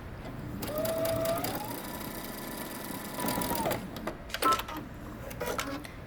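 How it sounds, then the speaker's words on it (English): Sewing machine stitching a pocket seam with 5/8 inch seam allowance, running in steady bursts of close, moderately loud stitching with brief pauses and some handling clatter toward the end. "we're going to stitch down using 5/8 of an inch seam allowance all the way down on both sides"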